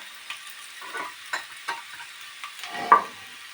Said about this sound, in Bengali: সব ফ্রাই হয়ে গেছে। এবার আমি আস্তে আস্তে আলুটাকে নামিয়ে নেব।